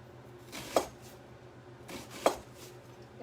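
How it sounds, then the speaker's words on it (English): An onion is chopped with a knife on a board: two distinct, close cuts about a second and a half apart, each over a faint background hum. "And this we're just going to chop."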